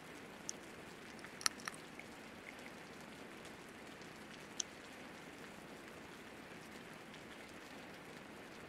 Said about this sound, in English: Wonderful. It's raining.